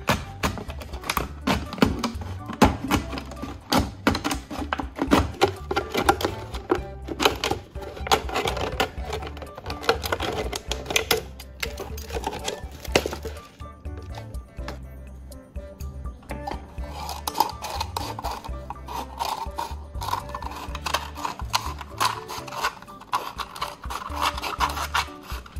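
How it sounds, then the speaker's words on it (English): A plastic bottle has its bottom section cut off, giving a steady, close scraping and rasping sound. The cutting runs continuously with an uneven, jittery texture throughout and no speech. "I'll take a plastic bottle and carefully cut off the bottom section"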